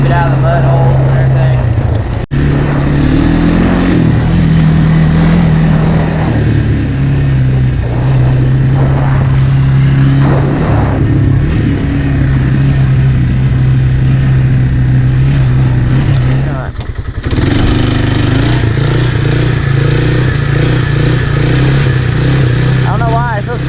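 A Honda 300 Fourtrax ATV engine drones steadily and loud throughout a ride, holding a low, even pitch with small shifts as the throttle changes and a brief dip partway through.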